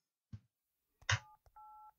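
A phone is dialed in the video game Resident Evil 7. A few short clicks and button presses come first, followed by a clear, sustained two-tone dial beep. The sounds are crisp, close and isolated against near silence.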